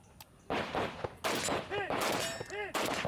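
Kalashnikov rifle fire at a shooting championship range: several loud, sharp bursts of shots with short gaps between them.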